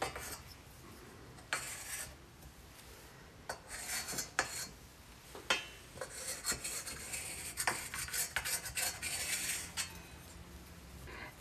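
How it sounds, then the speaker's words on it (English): Chalk scraping and rubbing on fabric as it traces around the rim of a bowl, with soft intermittent scratchy strokes and occasional light clinks, quiet and close. "use your chalk and simply go all the way around"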